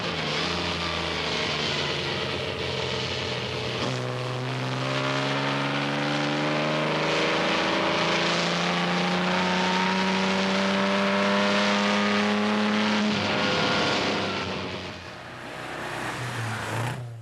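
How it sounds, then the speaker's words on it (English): A racing car engine roars steadily from inside the car on a 1981 Las Vegas course. A second car's engine rises in pitch as it draws alongside and passes, then the sound fades. "At this point, another car went past."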